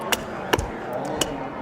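An old hewing hatchet, about a hundred years old, trims wood with three sharp, separate chopping strikes close by, a spoken voice faint in the background.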